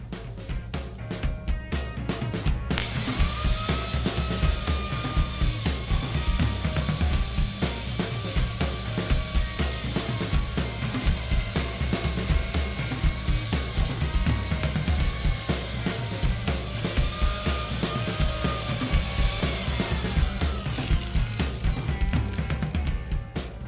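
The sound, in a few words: angle grinder with Arbortech Mini Turbo blade carving wood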